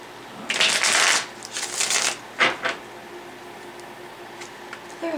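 Slippery tarot cards are shuffled in several quick riffling bursts, close and crisp, with soft ticks and pauses in between and no talking.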